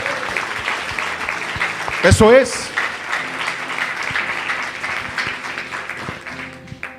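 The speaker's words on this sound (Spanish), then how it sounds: "Dale fuerte el aplauso al Señor" Church congregation applauding during a sermon, a busy patter of clapping running under an ongoing voice, with a sharper burst near the start and talk continuing over the applause.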